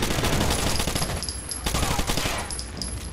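Gunfire in the Rainbow Six: Vegas video game, a loud close burst of rapid repeated shots that thins into scattered blasts over about three seconds.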